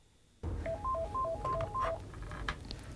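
A switchboard operator at a ministerial office dials a telephone handset, producing a quick run of about ten touch-tone beeps in a steady rhythm, close and clear over a low room background.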